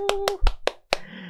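About five sharp, separate hand claps in a stock-investing lecture, spaced unevenly and close, with short silences between them and a faint tonal ring after the first few.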